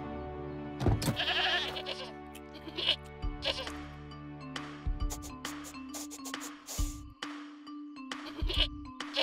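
Several goats bleat repeatedly, overlapping calls at varied pitches, with occasional clinks and faint background sounds in between.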